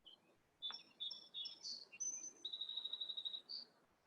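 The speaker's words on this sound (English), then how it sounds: "Do you guys hear the birds? I'm hearing some birds." Small birds chirp and tweet among eucalyptus trees at Pismo State Beach, a series of thin, high calls and a rapid trilling run, fairly faint over a soft outdoor hush.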